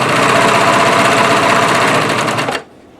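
A serger runs continuously at high speed, finishing a blanket edge with crochet yarn, a dense steady mechanical whir that stops abruptly near the end.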